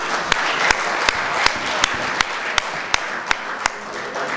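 Steady crowd applause fills the clip, with one sharp, prominent clap repeating at an even beat over the wash of hands.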